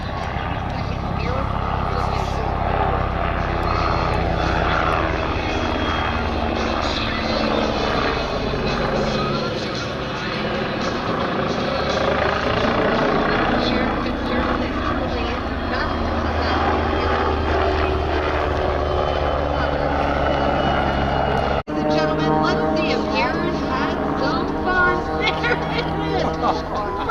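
Propeller aircraft roar past at the EAA AirVenture Oshkosh airshow, loud sustained engine drone with shifting pitch as planes fly and maneuver nearby, crowd chatter and commentary underneath.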